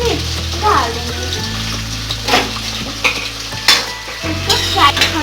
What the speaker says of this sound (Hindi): अब हम इसमें मीठी नीम के पत्ते